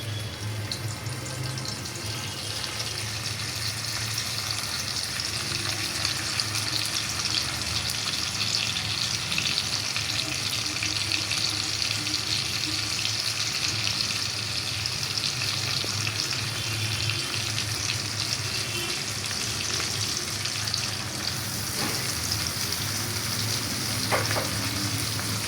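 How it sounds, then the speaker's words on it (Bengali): Fritters (bora) deep-fry in hot white oil in a wok, making a loud, continuous, even sizzle and bubbling hiss that carries on throughout with no voices. "এখন আমি তেলের মধ্যে বড়াটি ভাজবো সুন্দর করে।"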